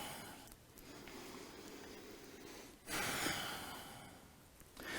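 Deep nasal breaths fill a pause in a vinyasa yoga flow, a long exhale followed by a louder inhale and another breath starting, close and soft.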